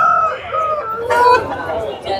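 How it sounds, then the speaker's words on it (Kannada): An aseel rooster crows at a busy chicken market, its drawn-out call rising over crowd chatter and people talking nearby. "ಗೈಸ್ ಇಲ್ಲೊಂದು ಹುಂಜ ಇದೆ"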